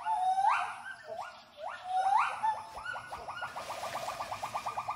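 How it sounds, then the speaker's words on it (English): A gibbon family's territorial vocal display: loud, rising whooping calls that speed up into a rapid, rhythmic run of short hoots. They ring out clearly, with no voices. "the gibbon family defend its boundaries, warding off fellow gibbons with vigorous visual and vocal displays"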